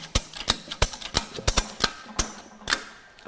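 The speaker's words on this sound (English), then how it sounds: "we can then operate our ratchet handle" A ratchet strap handle being worked to tighten a strap, giving a rapid series of sharp, close mechanical clicks in an uneven rhythm, loud and alone.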